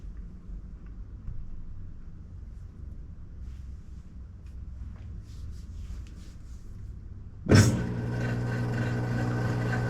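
A Maytag top-load washer on a quick wash cycle runs with a steady low rumble, then a sudden louder surge near the end as draining starts, continuing as a strong, sustained broadband rush with low hum.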